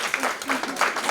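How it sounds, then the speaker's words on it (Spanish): An audience at a didactic children's concert breaks into steady applause, a dense wash of clapping that continues evenly through the moment, close and moderately loud. "Un aplauso aquí para Hugo."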